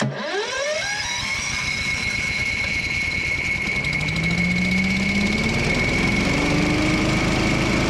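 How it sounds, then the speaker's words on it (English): A DR Power leaf and lawn vacuum's engine starts with a rising whine and then runs steadily, its loud continuous drone and high fan tone filling the clip close by with no talk. "If you push this all the way forward, it will start the engine."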